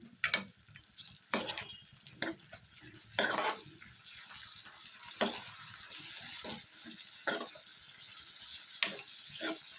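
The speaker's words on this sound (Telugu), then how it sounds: "ఇలా వేసుకుని ఇవన్నీ కూడా బాగా దగ్గరకు వచ్చేంత వరకు కూడా ఫ్రై చేసుకోవాలి." Tomato and tamarind frying in a pan for a coriander-mint-tomato chutney, giving a soft, low sizzle broken by sharp clinks and scrapes of a spoon against the pan.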